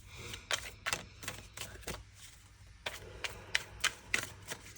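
Quiet riffling and tapping of tarot cards being shuffled, a series of short crisp bursts in uneven rhythm, close and without speech.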